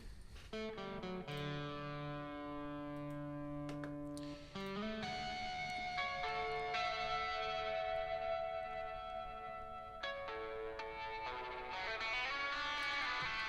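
An electric guitar plays a sustained, ringing lead line with long held notes and a wash of reverb trailing behind each phrase.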